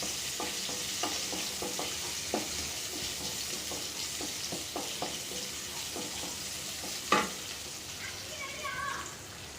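Chopped medium onion fries with a steady sizzle in a kadai pan for kadai paneer, while a spoon scrapes and clicks through it at irregular intervals, close and fairly loud throughout.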